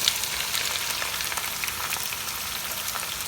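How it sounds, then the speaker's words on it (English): Onions sizzling as they hit hot oil in a kadai masala preparation, a steady, dense crackle with a bright hiss that stays near and constant with no one talking. "Okay, so now our oil is nice and hot, and to this we're gonna add all our onions."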